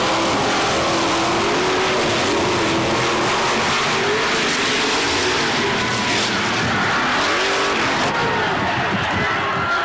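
GMC monster truck Nightmare engine roaring loud and continuous on a slick shutdown area, the pitch rising and falling as it revs, with heavy broadband noise.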